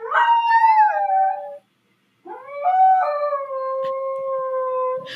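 A dog howls along with a siren in two long, wavering, high-pitched phrases separated by a brief silence, the voice sliding and cracking between pitches, close and loud.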